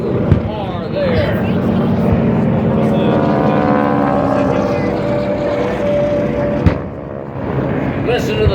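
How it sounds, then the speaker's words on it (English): Propeller aircraft engines droning low overhead during a Pearl Harbor attack reenactment at the 2017 Wings Over Wayne Air Show in Goldsboro, North Carolina, a steady loud roar with shifting pitch and a few sharp bangs, under an announcer's voice. "Listen to the sound of the engines, the sound of explosions and gunfire"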